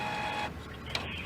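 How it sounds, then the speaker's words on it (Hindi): Printer running noisily, a steady mechanical whirring and grinding hum with a brief click near the end, close and continuous. "ये नॉर्मल प्रिंटर की आवाज है,"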